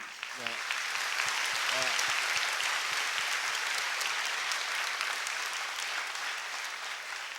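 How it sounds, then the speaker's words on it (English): Sustained applause from a university audience at a public event in Phnom Penh, a dense steady wash of clapping lasting several seconds, with a brief voice rising over it near the start. "Dr. Mahathir deserves a round of applause for his energy."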